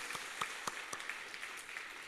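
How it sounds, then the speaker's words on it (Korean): A church congregation claps at a Friday evening worship service, a brief burst of many hands applauding together with a few sharper individual claps, moderately loud and close. "뜨거운 박수로 감사하십시오"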